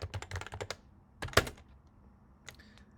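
Quick bursts of keystrokes on a computer keyboard while a git commit message is entered, clustered clicks with short pauses and a sharper key strike near the middle, close and clear.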